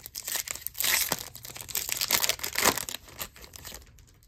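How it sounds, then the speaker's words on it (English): Foil wrapper of a Topps MLS Chrome trading card pack crinkles and tears as it is opened, close rustling bursts that fade toward the end. "I'm sitting here opening his cards"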